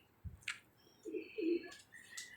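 Pigeons in a quiet loft, soft low cooing phrases close by, mixed with a few faint chirps from other birds and a brief flutter.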